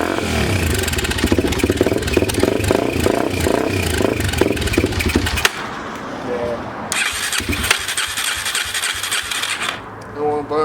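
A 2004 Yamaha TTR 250 motorcycle engine cranking on its electric starter, a loud rapid churning whir in repeated long bursts that fail to catch, close up, with someone talking between attempts.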